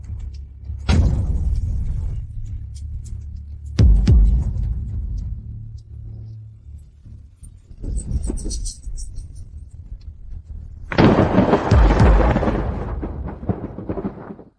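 Deep thunder rumbles roll in a storm, with a sharp crack opening each of several long booming strikes, the last one loudest and closest.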